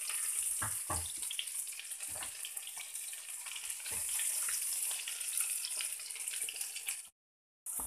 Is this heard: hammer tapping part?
no